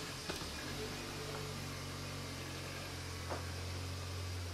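A MINI One R50's engine runs at a steady, low hum after a fresh oil and filter service, a faint continuous drone with a couple of soft clicks.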